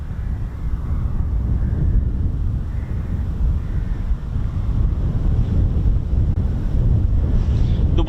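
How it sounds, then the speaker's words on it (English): Strong stormy wind buffets the microphone in continuous loud rumbling gusts, rising and falling throughout with no talk. "being all really strong windy and really strong winds and stormy"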